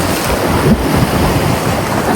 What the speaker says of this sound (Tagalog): So may mga naliligo kahit malaki yung alon.